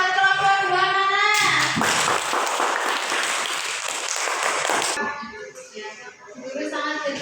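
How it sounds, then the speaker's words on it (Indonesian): A burst of applause from a classroom of students for a group, lasting a few seconds, with voices talking before and after it. "Ayo tepuk tangan buat kelompok 2 mana?"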